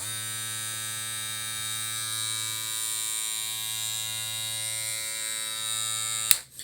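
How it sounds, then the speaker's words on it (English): A small electric hair clipper, a Stylecraft Apex, buzzes at a steady, close-up drone for several seconds, then a sharp click as it switches off. "I'm gonna go ahead and turn this clipper on for y'all."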